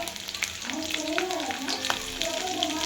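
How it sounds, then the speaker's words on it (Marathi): Garlic sizzles and fries in about two spoons of hot oil in a wok on a gas stove, a steady close crackling hiss that runs throughout with occasional stirring scrapes. "त्यात मी 2 चमचे तेल टाकलेले आहे आणि येथे मी लसूण टाकून घेतलेला आहे।"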